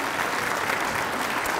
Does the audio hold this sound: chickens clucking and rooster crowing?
no